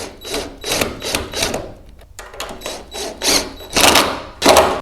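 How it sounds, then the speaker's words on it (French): Parts of a wooden bed being screwed together, with repeated rough, rhythmic grinding bursts of a screw driven into wood, loud and close. "On visse."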